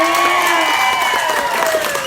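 Wedding guests clap and cheer for the bride's mother in a sustained burst of applause, with a voice talking over the crowd throughout.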